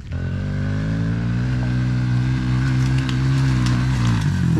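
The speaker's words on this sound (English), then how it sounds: "Oh God, he's gonna break my motorbike." A 110cc motorbike engine revs hard and continuously under load climbing a steep hill, a loud, close, throbbing drone with rising pitch and some rattling clatter.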